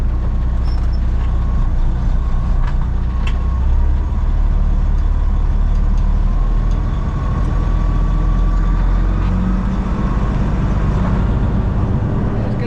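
A car reverses toward a garden area, and its engine drones low and steady with a rumbling idle-like hum throughout. There is no clear speech over it.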